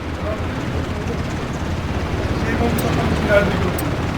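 A helicopter drones in Ring of Elysium, a steady low rotor rumble that swells slightly toward the end, heard under the game's ambient noise.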